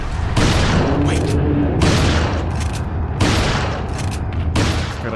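Gunfire in Resident Evil 4 (2005), a loud burst of shots with booming, echoing blasts that recur in three heavy waves across the stretch, dense and continuous with no talking.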